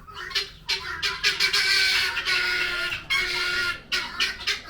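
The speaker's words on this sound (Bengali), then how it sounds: "জোরে জোরে শব্দ করে এরা ডাকাডাকি করে" Guinea fowl call loudly and repeatedly, harsh rhythmic squawking bursts close by, overlapping in a busy, insistent chorus with brief gaps.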